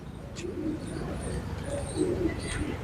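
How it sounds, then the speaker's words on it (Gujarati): Pigeons coo at a feeding spot where grain is being scattered, including some white birds; several soft low coos rise and fall over a steady outdoor murmur, with a few faint chirps above. "જો કેવા સરસ મજાના કબૂતર છે."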